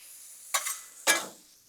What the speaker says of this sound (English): You know life is good when you got shrimp over here cooking on this Blackstone.